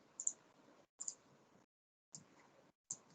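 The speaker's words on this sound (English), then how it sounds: "So I'll type this." Typing on a computer keyboard, heard as four short bursts of rapid clicking keystrokes separated by brief silences, fairly quiet and close, with no talking.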